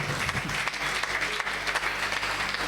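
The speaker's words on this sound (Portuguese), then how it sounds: "Você pode aplaudir pelo pastor e a sua esposa." Congregation applauding a pastor and his wife at a church conference, steady dense clapping throughout with no break.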